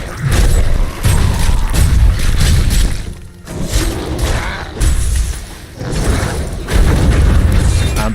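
Loud booming explosions and crashing impacts fill a Diablo III battle, dense heavy blasts in bursts with brief lulls between, close and overwhelming.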